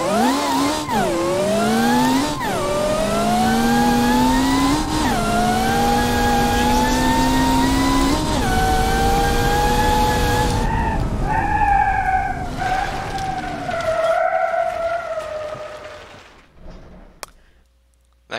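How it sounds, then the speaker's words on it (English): A very fast car's engine screams through rising gear changes during a long drag race in BeamNG.drive, loud and close, with several shifts before the revs fall away and fade near the end. "let's do a nice long drag race"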